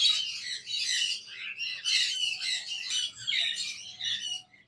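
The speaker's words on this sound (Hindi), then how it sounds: "मालाकन लोरी का पेयर है और बॉन्डेड पेयर है माशाल्लाह ये" A pair of Moluccan lories at a bird shop give harsh, loud squawks close by in repeated bursts, with brief pauses between calls over a low background hum.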